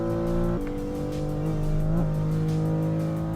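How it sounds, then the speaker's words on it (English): Audi engine in a driving video game revs steadily, with abrupt pitch drops and climbs as gears shift, tires squealing briefly; loud, close and synthetic-sounding, with no talk. "I hate the sound of this car."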